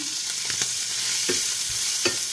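Mushrooms are stirred in a pan still greasy from frying chicken, giving a steady loud sizzle with a few scraping stirs of the spatula and no talking.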